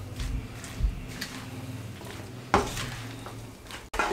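Black chana chaat being tossed together with green chillies, coriander and cabbage in a bowl, soft scraping and clinking of a spoon against the dish, quiet and close, with a couple of sharper knocks.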